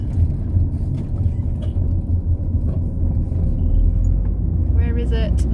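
A camper van's engine while driving along UK roads, a steady low rumble under the cab with someone talking over it and small knocks and rattles throughout.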